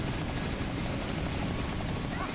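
Attack helicopter in the video game Mighty No. 9, a steady whirring rotor drone with a rumbling engine hum, loud and continuous, with game sounds mixed in.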